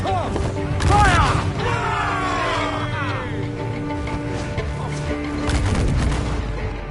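Ship cannons boom in a naval battle in Assassin's Creed 4 Black Flag, with heavy, continuous rumbling blasts under shouted crew orders and game music throughout.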